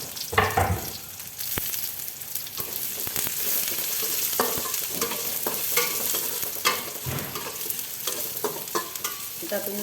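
Onions sauté in a pan, with a steady bright sizzle running throughout and frequent scraping stir strokes. The sound is close and fairly loud, and no voices are heard.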